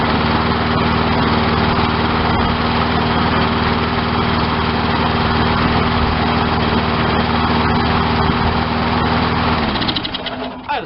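A lawn mower engine lubricated with bacon grease runs steadily while warming up, a loud, close, continuous droning hum that holds evenly before cutting out and sputtering down near the end.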